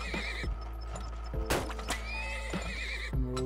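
Horses in a video game whinny and snort amid clip-clopping hooves and wooden clatter, several neighs rising and falling across the stretch, with occasional sharp knocks and no talking.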